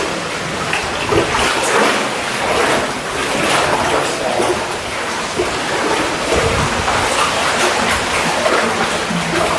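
Steady rushing water roars continuously inside a large abandoned mine, a broad noisy wash with no breaks, sounding fairly close and loud.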